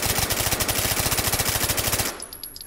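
A rapid burst of automatic gunfire from a gun fitted with a laser sight, hip-fired in the VR shooter H3VR, loud and close for about two seconds before cutting off.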